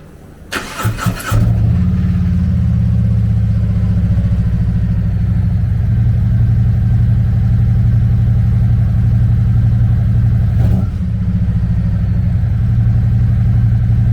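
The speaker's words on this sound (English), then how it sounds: "The Road Glide is powered by a 117 cubic inch V-twin motor" A 2021 Harley-Davidson CVO Road Glide with a 117 cubic inch V-twin starts up with a short cranking burst, then settles into a loud, steady, throbbing idle that runs on close by, with one brief blip near the end.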